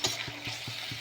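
Bay leaves go into a spiced masala frying in a pan for a rustic village-style desi chicken curry, with about five rhythmic stirring scrapes over a light, continuous sizzle.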